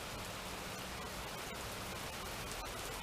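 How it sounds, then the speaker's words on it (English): Heavy rain pours down steadily outdoors during a thunderstorm, a dense, unbroken hiss that stays loud and close with no voices over it. "Look at the rain. Look at it. It's ripping."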